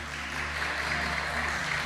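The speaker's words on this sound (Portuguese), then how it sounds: "isso vale um aplauso para Jesus" Applause from a church congregation during a sermon on preaching, a steady dense wash of clapping sustained evenly throughout, fairly loud with no voices over it.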